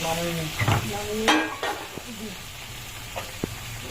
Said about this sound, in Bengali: চিলি চিকেনের পকোড়াটা ভাজার জন্য সাদা তেল দিচ্ছি